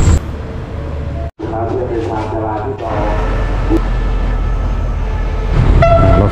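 A red sleeper train pulls into Bang Sue station in Bangkok, bound for Nong Khai. It rumbles in loud and close with a deep steady roar and squealing metallic tones, and a horn sounds near the end.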